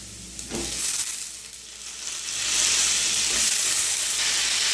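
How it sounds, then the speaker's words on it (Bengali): Banana stem being stirred into frying potatoes in hot oil with turmeric, a steady close sizzle with scraping stirs that grows louder and more hissing as the moist stem hits the pan. "থোরটা দিয়ে নেড়ে নেব।"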